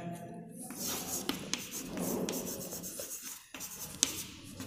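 Pen or pencil writing on paper during an online class, soft scratchy strokes with short pauses, faint and close, with no voices.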